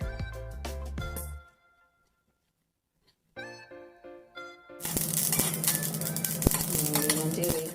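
Mustard seeds and fenugreek seeds roasting in a pan give soft scattered clinks and ticks, followed by a break and then a louder, denser stretch of rattling and sizzling crackle.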